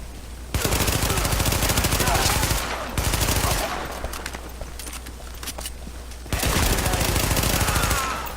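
Submachine gun fire in The Division video game, three long sustained bursts of rapid automatic shots, loud and close, with quieter gaps between them.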